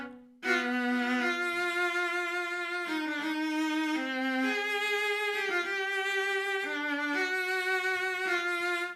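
A three-layer sustain sample patch in Kontakt plays a slow legato line of held, overlapping notes, smooth and continuous with rich harmonics at a moderate level.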